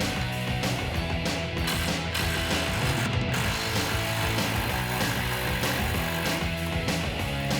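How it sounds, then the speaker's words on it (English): Ratchet wrench working loose the lower shock bolts on a 2007-2018 Jeep Wrangler JK four-door, a steady run of clicking pawl strokes heard up close and loud with no talking. "we're going to start by unmounting the lower shock bolts"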